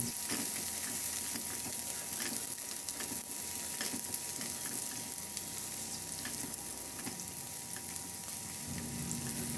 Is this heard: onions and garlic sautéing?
yes